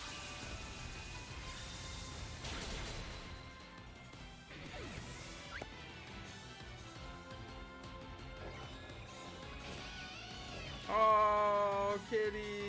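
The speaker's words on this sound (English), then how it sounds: "Oh, kitties." Cats meowing, with kitten-like high cries rising near the end, mixed with clattering knocks and other background noises over a continuous bed of sound.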